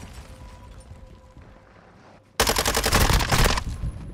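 Rapid automatic gunfire in Call of Duty Modern Warfare II erupts loudly and abruptly after a quiet stretch, a dense sustained burst of shots lasting over a second.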